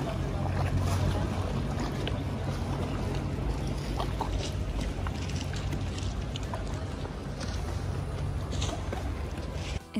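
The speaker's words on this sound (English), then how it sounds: "Just listen to the sound of the Venetian water." Boats and water along a Venice canal near the Rialto Bridge, with a steady low engine-like rumble and constant wash of water, broad continuous noise and faint wind, no clear talk.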